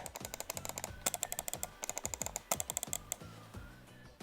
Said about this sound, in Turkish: Tuş sesi de şöyle.